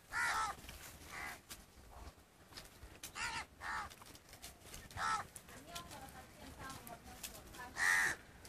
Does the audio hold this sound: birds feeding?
yes